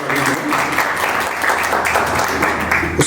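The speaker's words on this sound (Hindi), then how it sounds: "जोरदार तालियां दें।" Sustained applause from an audience at a Rotary Club women's day debate competition, steady and dense for the full stretch with no talk over it.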